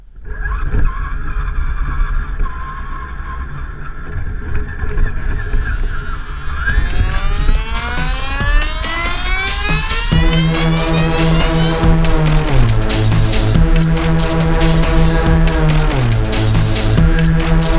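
An RC SCX10 Jeep Rubicon crawler on RC4WD 1.9 Mud Slinger tires drives continuously, its small electric motor whining and rising in pitch as it speeds up, then holding steady with shifting tones, loud and close with no talk.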